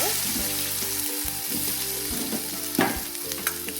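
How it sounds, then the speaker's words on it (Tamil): Ivy gourd sautés in oil with popped mustard seeds, asafoetida and a dried red chilli, a loud close sizzle broken by stirring scrapes and a couple of utensil knocks. "கோவக்காய் ஆட் பண்ணி நல்லா வதக்கி விட்டுக்கலாம்."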